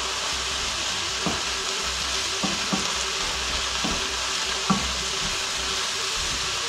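Leek filling with sweet paprika fries in a pan, a steady broadband sizzle running throughout while a spoon scrapes and stirs in a few soft, scattered knocks.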